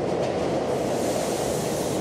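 A train at an old city railway station gives a steady, dense rumble and hiss that holds evenly throughout, continuous and fairly loud, with no voices.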